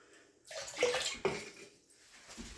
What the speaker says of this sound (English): Look, water in the bathtub.